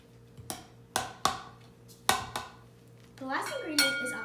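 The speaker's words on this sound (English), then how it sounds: "this time I'm going to use the whisk so all the flour can mix in nicely" Whisk stirring flour into banana bread batter in a bowl: sharp, separate clinks of the whisk against the bowl with gaps between them, then quicker scraping and rattling near the end, close and fairly quiet.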